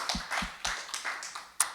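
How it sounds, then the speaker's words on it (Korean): A church congregation claps during a worship service, heard as a handful of separate, fairly quiet hand claps in an uneven rhythm rather than a full ovation. "우리 하나님께 영광의 박수 한번 올리도록 하겠습니다"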